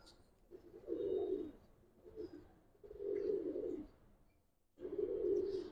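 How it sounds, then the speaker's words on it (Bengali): A male Giribaz pigeon coos in three low, throaty phrases, each roughly a second long and separated by short pauses, heard fairly close with no one talking. "ওই যে ওদিকে নট ডাকতেছে না"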